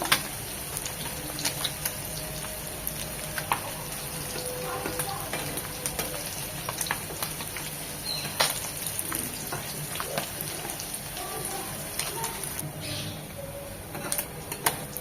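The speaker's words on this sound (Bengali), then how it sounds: "পুঁটি মাছ অনেক ফোটে, চাইলে একটা ঢাকনা ইউজ করতে পারেন।" Small puti fish fry in oil with a continuous hiss of sizzling and scattered spluttering pops, moderately loud and close, with a few utensil taps and no speech.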